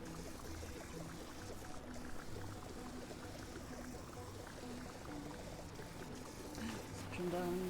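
Water suction tool in the Fresh Start Cleaning Simulator cleaning game draws up water with a steady, quiet pouring and gurgling rush, continuous and slightly swelling near the end, with a voice speaking faintly over it.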